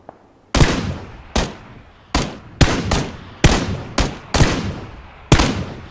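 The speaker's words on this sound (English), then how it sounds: "I'm going to shoot." Gunfire in the video game PUBG Battlegrounds: nine loud, sharp shots ring out in uneven bursts over about six seconds, each with a short decaying tail, and no voices in between.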